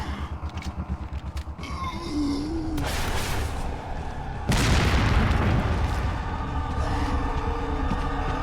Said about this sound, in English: Rocket launchers.